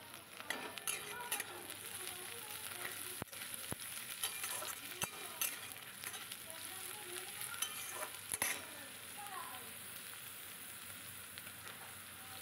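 Green chillies and garlic frying in a pan for a fish curry, a continuous soft sizzle with scraping stir strokes and a few sharp utensil clicks, fairly quiet and close.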